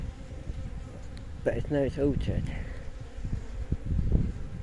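Honey bees buzzing around numbered hives in an October apiary, a continuous low insect drone that stays close and steady beneath someone talking.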